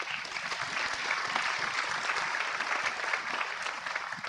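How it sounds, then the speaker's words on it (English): Sustained audience applause at a global biodiversity summit: a steady, even wash of many hands clapping that continues for several seconds at moderate distance. "I think we should applaud them."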